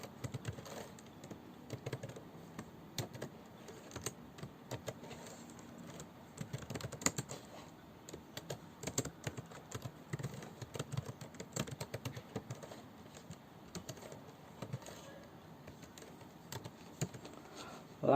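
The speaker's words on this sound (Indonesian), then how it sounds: "yaitu dengan ketik code" Code being typed on a computer keyboard: soft, irregular key clicks tapping in uneven bursts, quiet and close, with no voices.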